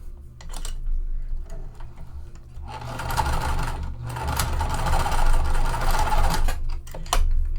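A sewing machine stitches a line across a webbing strap for a handbag, its needle chattering in fast bursts with brief pauses between runs, close and steady.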